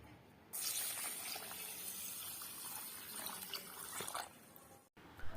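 Water splashes and swishes in a bowl as Sona Masuri rice is washed at home. The quiet, continuous sloshing and pouring breaks off abruptly near the end.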